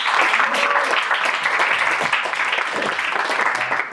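An audience at an evening talk for a one-year anniversary program gives a round of applause, dense, steady clapping from a roomful of people that holds for several seconds and tapers slightly at the end.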